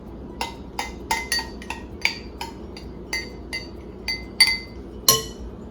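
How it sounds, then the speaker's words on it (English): A utensil clinks repeatedly against a bowl while shredded cheddar and mozzarella cheese are mixed together: about a dozen sharp, close taps in an uneven rhythm, with no talking. "a cup of mozzarella cheese. And we're just going to mix that together"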